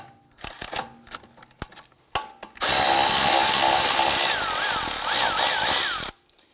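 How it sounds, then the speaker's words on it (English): A 10mm socket on a power tool removes a nut on the front steering knuckle of a 2004-2008 Acura TL: a few light clicks and taps, then a loud, steady whirring burst lasting several seconds that stops abruptly. "Using a 10mm socket, we're gonna go ahead and remove the nut right here."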